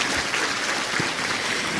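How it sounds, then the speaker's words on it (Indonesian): Audience applause for Ustadz Asep during an Islamic religious lecture, a steady broadband patter of many hands clapping throughout, fairly loud and continuous with no voices over it. "Tepuk tangan buat Ustadz Asep"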